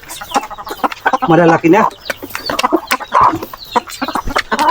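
Turkeys on a small mini farm call out in short bursts, with a louder cluster near the middle, while a person talks over and between the calls.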